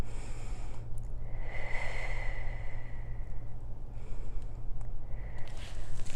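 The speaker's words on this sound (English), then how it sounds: "Breathe." Steady, slow breathing during a Pilates stretch for the upper back and hamstrings, a few soft drawn-in and released breaths, close and quiet over a constant low hum.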